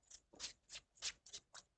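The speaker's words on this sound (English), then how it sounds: "I don't want to spend too long shuffling" Tarot cards are shuffled by hand in six quick, soft riffling bursts with short pauses between them, faint and close by, with no talking.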